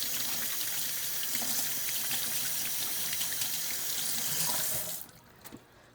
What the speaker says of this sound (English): Let me wash my hand one more time.